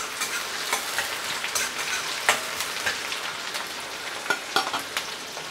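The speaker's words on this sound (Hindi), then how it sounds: "जब तक हमारा प्याज फ्राई हो रहा है" Two medium onions, finely chopped, fry steadily in a pan with whole spices for a chicken dish, giving a continuous close, moderate sizzle with occasional crackles and pops throughout.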